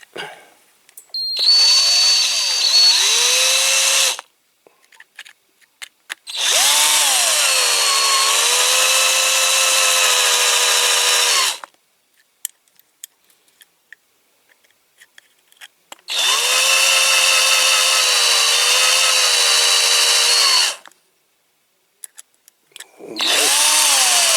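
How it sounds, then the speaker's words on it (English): A power drill drilling out a rivet, whining at high speed in four long bursts separated by quiet pauses, loud and close, with no talking. "Let's drill this one out."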